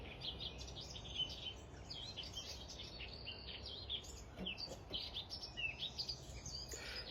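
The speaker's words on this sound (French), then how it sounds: "Le chant des oiseaux, je me tais." Birds sing in the early morning of a hot summer in a garden with roses and jasmine, many high chirps and tweets overlapping continuously over a faint, even background hush.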